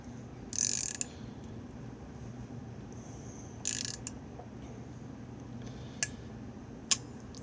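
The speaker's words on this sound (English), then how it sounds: "I'm going to take my 7mm, and I'm actually going to tighten this down as much as I can go." A 7mm wrench tightens the nut on a Prusa 3D printer hotend, giving a few short metallic ratcheting clicks and scrapes at close range over a faint steady hum, with gaps between the strokes.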